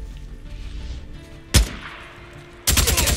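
Gunfire in the Days Gone video game: a single sharp shot, then a rapid burst of several loud shots close by, with no talking.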